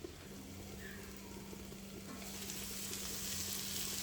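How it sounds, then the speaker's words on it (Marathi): Banana flower bhaji sizzles and fries in a pan as it cooks, a steady soft crackle with occasional stirring that grows a little louder partway through. "बघा, भाजी आता अशा प्रकारे शिजत आहे"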